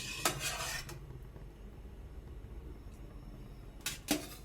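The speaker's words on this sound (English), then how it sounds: "We'll give it a good drain into our sauce." Cooked gnocchi being drained into a gorgonzola and walnut pasta sauce, heard as a couple of short metallic clatters and splashes at the start and end with quiet stretches between.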